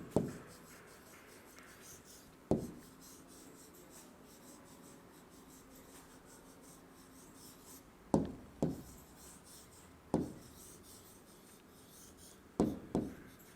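A teacher writing out a chemistry definition for a class 10 lesson, with sharp taps and scratchy strokes of writing on a board in irregular bursts, close and clear, with no talking.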